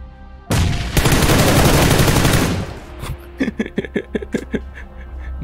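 A SCAR-L assault rifle fires in PUBG Lite, a loud, dense automatic burst lasting about two seconds, then a string of separate, slightly more distant shots follows.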